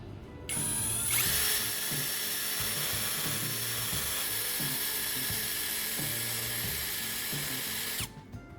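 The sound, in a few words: power drill drilling holes in lid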